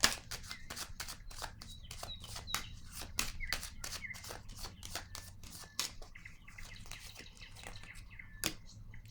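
Fortune-telling cards shuffled by hand at close range, a quiet run of crisp, rapid flicks and snaps repeating in quick bursts, with faint birdsong chirps behind.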